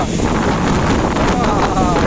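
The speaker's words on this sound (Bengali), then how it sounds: "সেই হাওয়া চলছে।" Strong wind gusts through Swapnobithi Park in Naihati, a loud, continuous rushing that buffets the microphone up close without pause.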